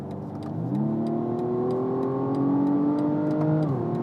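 A 2020 BMW M135i xDrive's engine revs from inside the cabin with a piped-in six-cylinder sound, its tone climbing smoothly through the rev range and then easing off, loud and clear with no talking.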